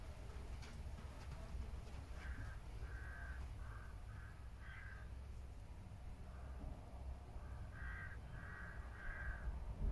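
Crow cawing on an outdoor golf driving range: a run of harsh repeated caws in the first half, then another quick series near the end, moderately distant over a steady low outdoor rumble.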